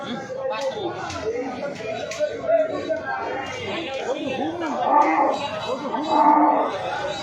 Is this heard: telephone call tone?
no